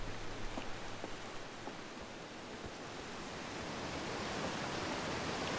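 A waterfall in the video game Outer Wilds gives a steady, loud broadband rush of falling water that fills the whole stretch without letup.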